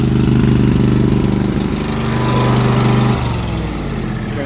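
A mini skid steer 1150 runs its small engine up close in a loud, steady, chugging drone, and the note drops to a lower, quieter idle near the end.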